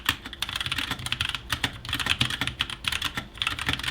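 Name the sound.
typing on a wireless RGB mechanical keyboard with brown switches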